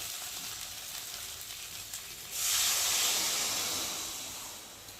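Water poured into a hot kadai of spiced okra: a quiet background crackle suddenly bursts into a loud, bright hiss of steam that slowly fades over a couple of seconds.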